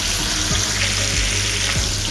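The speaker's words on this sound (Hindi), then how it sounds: "इसको हम अच्छी तरह मिक्स करेंगे और भूनेंगे 5 से 10 मिनट के लिए" Chicken frying with green chillies and tomatoes, making a loud continuous sizzle, close by, with a few low thumps of stirring spaced through it.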